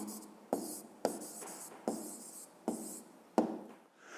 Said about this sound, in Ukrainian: Ну, а зараз записуємо відповідь.